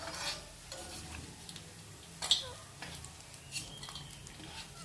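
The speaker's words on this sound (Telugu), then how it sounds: "కాబట్టి ఇట్లా గోల్డ్ కలర్లో వేయించుకొని తీసి పక్కకి గిన్నెలో పెట్టుకుందాం." Small dried fish frying in oil until golden, a soft steady sizzle with scattered light stirring clicks and scrapes, close but fairly quiet.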